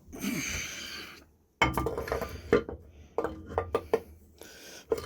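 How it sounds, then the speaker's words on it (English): A metal lid is set back onto an engine during a cold-start job on a JP2 engine, giving several close, sharp clinks and knocks in an irregular run after a brief quiet stretch. "And I'll put this lid back on."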